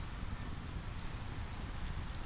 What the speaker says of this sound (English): The rain is heavy now